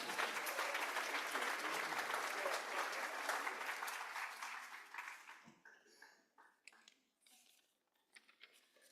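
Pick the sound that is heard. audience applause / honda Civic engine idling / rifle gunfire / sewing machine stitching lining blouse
audience applause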